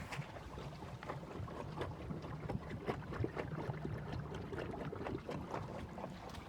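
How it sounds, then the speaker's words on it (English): A Mercedes E320's exhaust running fully submerged in water, making a low, churning, bubbling gurgle with splashy bursts, fairly faint and continuous without any voices. "The exhaust is completely submerged."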